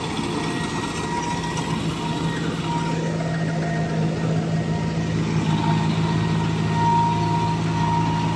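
A tractor engine running steadily during an attempt to pull a vehicle stuck deep in mud, a continuous low droning rumble with a steady hum, heard alone without talk.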